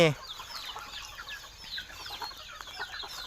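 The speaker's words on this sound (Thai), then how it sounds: "นี่คือไก่ครับผม" Several farm chickens, including striped hens, cluck and chatter in short scattered bursts at an evening farmyard, fairly faint with a brief louder call at the start.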